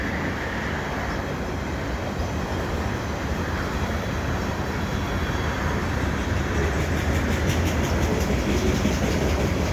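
Loud, continuous rumble and rattle of a passing CN freight train in Dorval, wagons rolling by with a steady clickety roar filling the whole clip.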